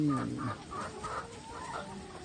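Laying hens on a small farm cluck in short, uneven bursts, several close birds overlapping in a soft, murmuring rhythm with no voices heard.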